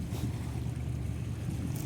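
A trawler boat passing on the Padma river near a launch ghat, a steady low engine drone mixed with strong wind buffeting and water noise, continuous for the whole stretch.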